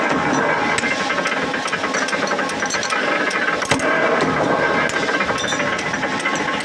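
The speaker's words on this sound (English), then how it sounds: "So you can hear the power of this machine and how it should be bended." A powerful bending machine works a steel greenhouse arch rod, giving a loud, continuous mechanical rattle and grind with repeated sharp knocks throughout, close up and with no talk.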